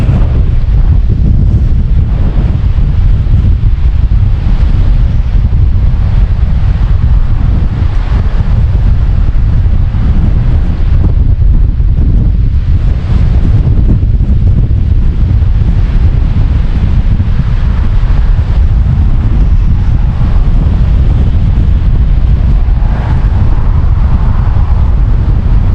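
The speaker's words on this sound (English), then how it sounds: "And it is quite breezy too today." Strong, gusty wind beside the wide Mississippi River at St. Louis buffets the microphone, making a loud, continuous low roar throughout with no voices.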